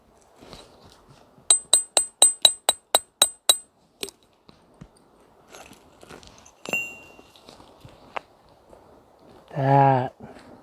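A hammer strikes a chisel on rock while rockhounding for zeolites along the John Day River in Oregon: a quick run of about eight sharp, ringing metallic blows, then scattered scrapes and a clink, ending with a brief vocal sound.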